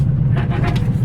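A cheap old car idles with its exhaust cut off at the manifold, a loud, close, deep rumbling throb that runs steadily without a break.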